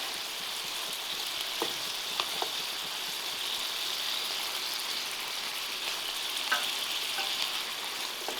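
Prawns and a seafood mix are stir-fried in a pan for seafood paella, giving a steady, moderately quiet sizzle with occasional clinks and taps of utensils, and no speech.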